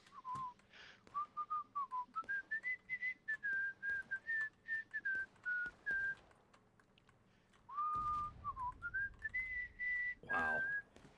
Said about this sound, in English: Still whistling.